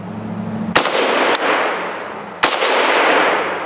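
An American-made AK rifle fires outdoors, three sharp loud cracks at uneven intervals, each followed by a long echoing decay.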